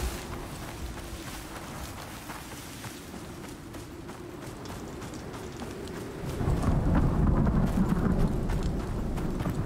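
In the survival game Icarus, a thunderstorm brings steady rain and low rumbling thunder that swells louder partway through, heard with no voices.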